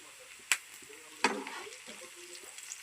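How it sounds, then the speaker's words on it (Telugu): Onions and green chillies fry in hot oil and are stirred, giving a soft continuous sizzle broken by two sharp utensil clanks against the pan. "ఆనియన్స్ వేసి బ్రౌన్ కలర్లో వచ్చిన దాకా వేపుకుందాం"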